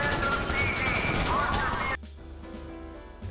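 Dense bursts of gunfire in the video game GTA 5 fill the first two seconds loud and continuous, then cut to a quieter game scene with a low hum.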